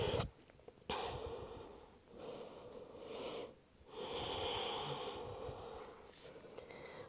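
Slow, soft breaths during a Pilates total body exercise: a long drawn-out exhalation and quiet inhales, faint and close against low background hiss.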